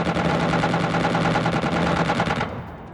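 Aircraft guns fire in the Xenonauts air-combat game in a dense, loud, continuous burst that lasts about two and a half seconds and then cuts off into a quieter hum.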